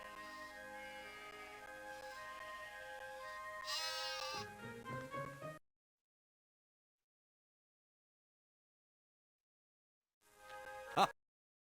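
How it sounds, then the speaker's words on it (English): Sheep bleat in a children's Bible video game about Moses tending a flock in the hills. Tonal music plays under them, then a few wavering bleats come through, followed by silence and one more short bleat. "Moses was looking after a flock of sheep up in the hills"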